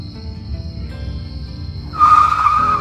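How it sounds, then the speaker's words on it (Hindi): A cartoon car brakes hard and skids. A quiet rumble gives way, about two seconds in, to a loud, sustained tire squeal that lasts to the end. "धीरज गाड़ी रोक, मुझे कुछ लेना है।"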